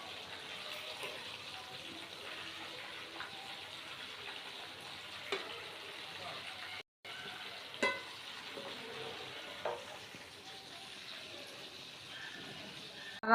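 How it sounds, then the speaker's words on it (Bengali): Chicken pieces for biryani fry in a pan with a steady, moderate sizzle and crackle, broken by occasional stirring clatter and a brief pause. "আমি এখন মুরগির মাংসগুলো ভাজা বসায় দিছি"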